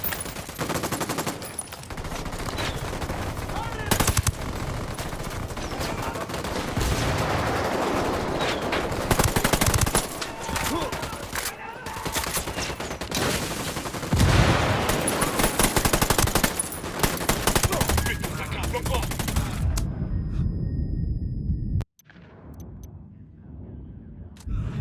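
Dense, sustained automatic gunfire and explosions in the tactical shooter Ghost Recon Wildlands during a convoy ambush, loud and continuous for about twenty seconds before an abrupt cut to quieter game sounds.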